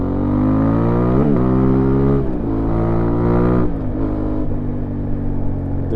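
A 2025 Aprilia Tuareg 660 motorcycle accelerates hard through the gears, its engine note climbing in loud rising sweeps broken by brief dips at each shift, heard close from the rider's position.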